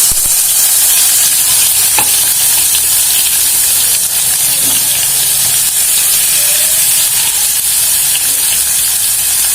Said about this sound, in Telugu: ఇవి చిటపట్ల ఆడుతూ ఉన్నాయి కదా తర్వాత మనము మనం దంచుకున్నటువంటి ఎల్లిపాయ ఉంది కదా అది వేసేసుకుందాం